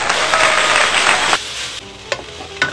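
Shiitake mushrooms, dried shrimp and pork being stir-fried in a hot wok, giving a loud, dense sizzle that drops off after about a second and a half, followed by a few sharp clanks of the utensils.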